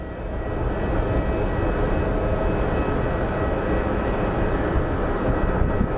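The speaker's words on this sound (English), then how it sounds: "Up next is Southwest 2354 coming in from Austin" A Southwest Airlines jet arriving at Phoenix Sky Harbor gives off a steady, broad low roar that stays loud and even throughout, with no voices over it.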